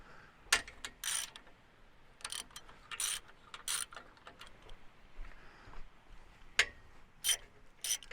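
A ratchet tilting a solar panel mount for a solar water pump kit clicks in quick bursts separated by pauses, sharp and close in a quiet outdoor setting, with no talking.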